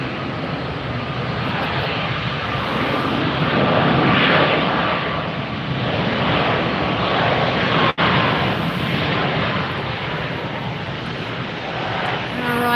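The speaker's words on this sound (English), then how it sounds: "There's our next landing." A jet airliner landing at Tampa International Airport at sunset, its engine roar loud and steady throughout, swelling and easing slightly as it passes.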